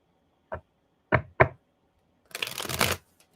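Tarot cards are shuffled close up: three short separate taps and riffles, then a longer, louder riffle lasting about half a second, in an otherwise quiet room.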